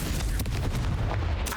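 A Confringo blast spell cast in Hogwarts Legacy, a short fiery burst with a booming, crackling impact over a rumbling background, fairly loud and close.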